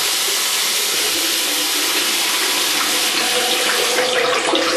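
Liquid pours steadily into a sink with a continuous, close splashing rush of water.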